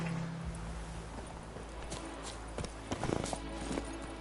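Roach, the horse from The Witcher 3, galloping in a steady clip-clop of hooves under continuous game ambience, with the hoofbeats growing louder and denser toward the end.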